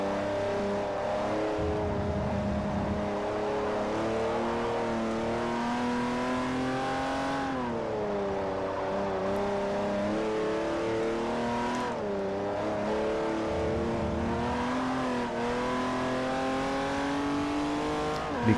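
A BMW race car engine in the video game Forza Motorsport 4 holds a steady high-pitched drone, its pitch dipping and climbing again between gear changes, loud and continuous throughout with no talking.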